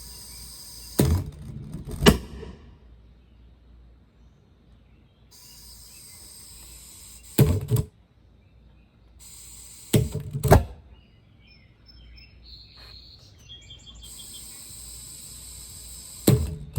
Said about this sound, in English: the plasma gun is a lot brighter and louder